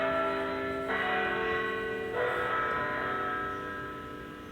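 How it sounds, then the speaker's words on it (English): A school bell rings to let students in, a steady metallic ringing with sustained overlapping tones that shift partway through and slowly fade, with no voices. "That's actually the bell to let you guys in here"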